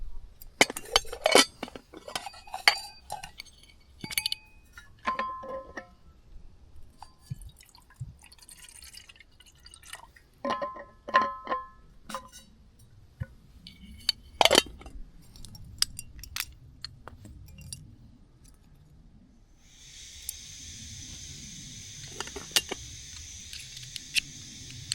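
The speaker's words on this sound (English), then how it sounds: "So we'll get the kettle on, we'll have a nice cuppa" Metal clinks and clatters as a kettle is set up for tea during outdoor cooking beside the ruins of Roche Abbey, with scattered handling knocks, then a steady hiss from the stove.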